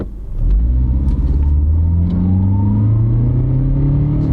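A small Honda car accelerates hard on an open road, its engine rumbling loudly from inside the cabin and climbing steadily in pitch as it builds speed.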